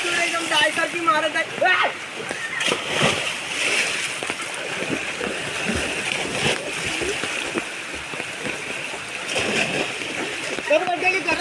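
Splashing water with sloshing and churning as someone jumps and swims in warm water during rain, with voices talking throughout.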